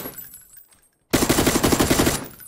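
Rapid automatic gunfire in the video game PUBG on console, a loud close burst of evenly spaced shots lasting about a second after a brief quiet gap.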